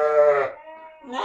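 Sheep and lambs on a Kyrgyz farm bleat twice, up close and loud. A long wavering cry is followed by a second, softer bleat.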